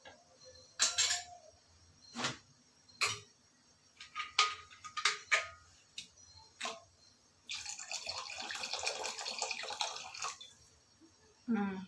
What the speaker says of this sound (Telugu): సో ఇంకొన్ని వాటర్ యాడ్ చేసుకుంటాను.